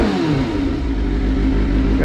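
Sportbike running a standalone ECU revs hard against its 8,000 RPM rev limiter, a loud, sustained engine roar with a steady stuttering limiter pulse throughout.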